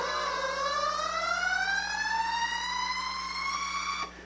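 Futuristic 1970s-style synthesizer effect, a smooth electronic tone gliding slowly upward with rich harmonics, sustained for several seconds and heard alone.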